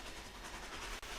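A train in a train simulator game rolling along, a faint steady rumble with a soft rhythmic clickety-clack of wheels and a brief dip near the end.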